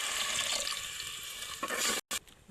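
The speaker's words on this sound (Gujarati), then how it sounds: "આપણે પાણી નાખી દઈએ" Water poured into cooking masala for vadi nu shaak, a continuous close splashing gush for about two seconds that cuts off abruptly, followed by a short faint trickle.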